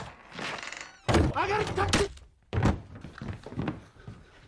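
A fragile wooden pole inside a house is knocked and falls with heavy thuds and a clatter, in two loud bursts amid scuffling and background noise.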